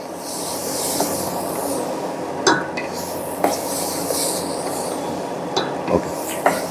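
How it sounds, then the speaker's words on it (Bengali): Lentils frying over high heat in a pan, a steady hiss with occasional clicks and scrapes of a spoon against the metal, close and continuous with no voices. "তো হাই হিটে এটাকে একটু একটু হালকা ভেজে নিতে হবে"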